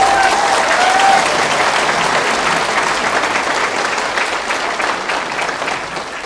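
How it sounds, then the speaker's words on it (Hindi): An audience at a motivational talk claps loudly in a thick, continuous wash of applause that holds steady and then tapers slightly toward the end. "और जोरदार तालियां अपने लिए बजा लीजिए।"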